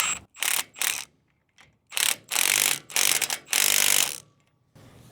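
Cranking the handle of a boat trailer's tongue jack gives loud, close ratcheting bursts of gear clicks, several separate runs of uneven length with short pauses between them and no talking.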